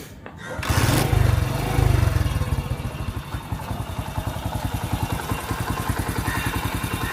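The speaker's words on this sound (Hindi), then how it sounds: "मैं अब आपको बाइक स्टार्ट करके इसका साउंड सुनाता हूँ" A 2023 Honda CD 70 motorcycle engine roars to life with a burst of revving, then settles into a steady, rapid idle chug that continues close by.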